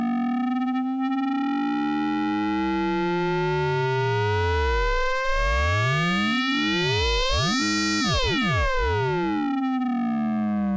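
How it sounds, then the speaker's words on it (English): Doepfer A-110-4 standard VCO under frequency modulation gives a loud, continuous synthesizer tone with raw, buzzy harmonics that sweep up and down in wide, swooping arcs. The tone plays alone with no voices. "now let's go back to the standard VCO and let's frequency modulate that one"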